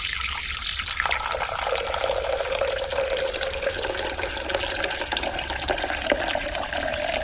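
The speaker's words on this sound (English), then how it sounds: "So far, Gov has poured 2 jugs of yellow water, but we're moving on to the blue water now." Water poured from a jug during a game show, a steady continuous splashing pour that rises in pitch as the vessel fills, close and alone.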